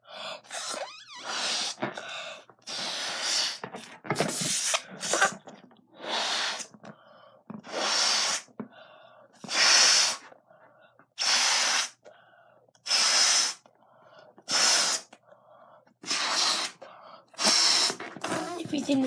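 Someone blows air into a balloon in a series of long, forceful breaths, about a dozen puffs spaced by short pauses, close and fairly loud.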